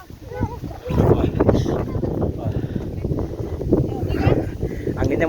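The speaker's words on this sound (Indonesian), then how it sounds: "Anginnya mulai kencang sih." Strong gusts of wind on the Bukit Lincing hilltop roar and buffet the microphone, producing a loud, rumbling, uneven rush that swells and eases throughout.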